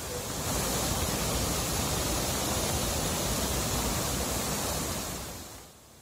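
During heavy rain in Uttarakhand, floodwater pours over the Gangotri–Yamunotri national highway as a loud, unbroken roar of rushing water. It holds steady for about five seconds and then fades out, with no voices.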